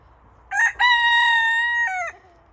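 A frizzle rooster named Razzle Dazzle crows once, close and loud, a sustained cock-a-doodle-doo with a brief break after the opening note, then trailing off.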